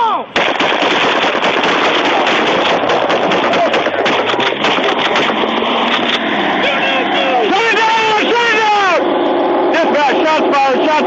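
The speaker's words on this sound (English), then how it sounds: "Shots fired! Shots fired!" Gunfire during a deputy's confrontation with a stolen car, heard as a loud, rapid burst of shots. Shouting voices and siren-like wails follow, with the sound clipped and harsh from close range.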